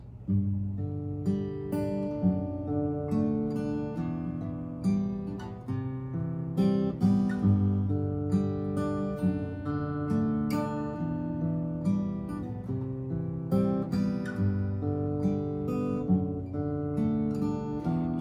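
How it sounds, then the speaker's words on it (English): Fingerpicked acoustic guitar plays the intro of the worship song Lamb, a steady, arpeggiated pattern of plucked notes, clear and close, with no voices. "We're going to go through some finger picking for the first couple of verses."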